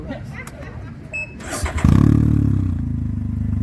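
A motorcycle engine fitted with an RLS Stealth muffler, baffle in, fires up and settles into a loud, steady low exhaust drone after some clatter and handling noise.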